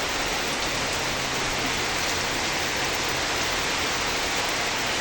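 Heavy rain falls outdoors where someone is bathing, a constant close wash of dense hiss that never lets up, with no talking over it.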